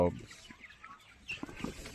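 Tiger chickens cluck softly at close range in a quiet coop, making scattered short calls over faint background noise.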